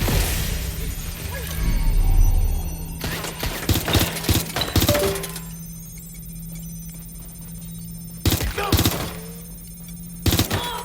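Gunfire aimed at the player in Watch Dogs Legion comes as sharp bursts and scattered shots over game noise, with speech heard in between.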